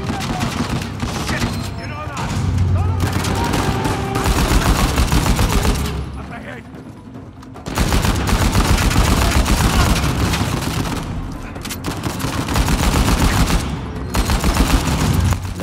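Heavy gunfire from Uncharted 4: A Thief's End rattles in dense, loud bursts that continue almost without a break. A brief quieter lull falls midway before the shooting resumes.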